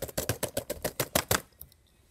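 Quick burst of about a dozen sharp keystrokes, clacky and close, in a fast even rhythm that stops abruptly, followed by near silence.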